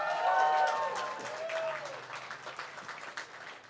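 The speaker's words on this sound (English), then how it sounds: "If we can give them one more round of applause." Audience applause at a Brown Center for Students of Color renaming ceremony, following a mariachi performance whose last tones fade out as steady, dense clapping fills the room and slowly tapers off.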